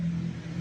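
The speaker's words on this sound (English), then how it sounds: "Oh, see, you got a loud car." A loud car revving outside, a low steady engine rumble droning throughout with a slight swell at the end, heard on its own without speech.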